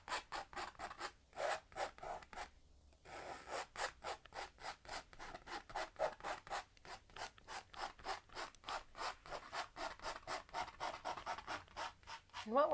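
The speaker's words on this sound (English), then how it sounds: "Then we can just kind of shape out the bottom by scraping and pressing that paint into the canvas." A painting knife scrapes and presses thick paint into canvas in a long series of close, rhythmic rasping strokes. The strokes repeat steadily at a soft level, and no one speaks.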